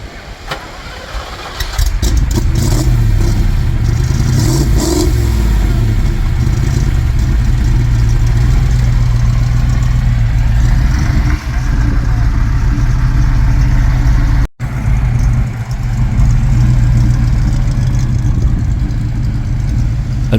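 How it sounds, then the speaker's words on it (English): A Lamborghini Jalpa fitted with an aftermarket exhaust starts up and settles into a loud, throaty idle close by, its deep rumble holding steady apart from one brief dropout. "But the Jalpa sounded really good."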